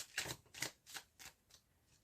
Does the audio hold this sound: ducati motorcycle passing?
no